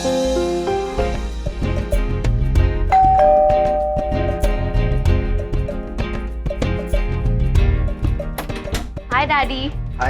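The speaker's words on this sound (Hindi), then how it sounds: "कब से घंटी बजा रहा हूं मैं?" A doorbell rings at the door of a home, sounding out over steady background music in a domestic scene.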